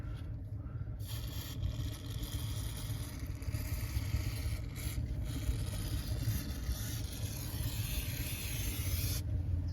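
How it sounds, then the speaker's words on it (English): Continuous hiss of a brake cleaner aerosol can held close, sprayed to clear oil on a third-generation Cummins diesel engine, with faint scraping, running almost unbroken for several seconds before stopping. "I'm going to use some brake clean to get rid of as much oil as I can"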